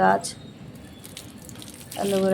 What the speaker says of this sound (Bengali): তো এসে দেখো গাছে জল দিচ্ছি।